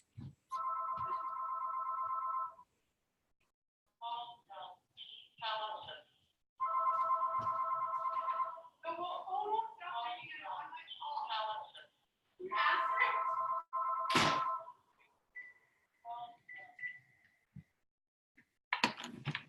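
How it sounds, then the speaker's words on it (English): A phone rings in repeated bursts of electronic trilling, fairly faint, alternating with someone talking between and over the rings. "my phone is ringing, you guys"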